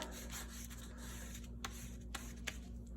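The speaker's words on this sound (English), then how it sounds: "I can lay the crayon down on its side, night-night crayon, and I can rub the crayon" A crayon laid on its side is rubbed across paper over a textured placemat, giving a steady soft scratchy friction with a few small taps, close and fairly quiet.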